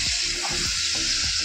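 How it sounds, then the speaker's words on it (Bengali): Small fish and onion sizzle steadily in a hot frying pan, a continuous crackling hiss with faint stirring scrapes, close and alone without voices. "এবার আমি পেঁয়াজ দিয়ে বসিয়ে দিয়েছি মাছটা"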